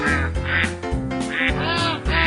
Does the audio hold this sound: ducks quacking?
yes